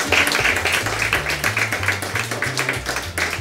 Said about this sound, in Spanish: Aplaudan gracias